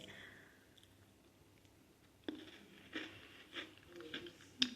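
Someone bites into a crunchy, slightly overdry ginger-honey gingerbread cookie and chews it, a first sharp crack followed by several close, crisp crunches in an otherwise quiet room, with no talking.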